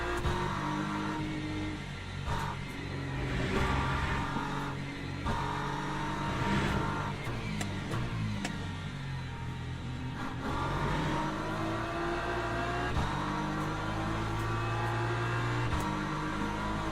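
Le Mans Ultimate racing sim with LMP3 prototype race cars coming through, steady dense engine drone with several rising revs and passing surges over seventeen seconds, no voices.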